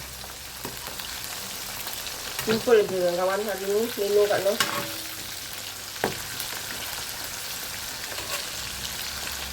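Prawns coated in flour fry in hot oil with a steady crackling sizzle and occasional stirring clatter. Someone talks over the cooking in the middle of the clip.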